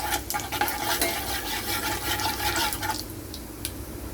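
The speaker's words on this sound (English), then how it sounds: "now I put little whole cumin, only little, okay, and little saute" Whole cumin sautéing in a pan for masala oats, a dense close sizzle with scraping stir strokes that thins out near the end, leaving quieter crackle and a few spoon taps.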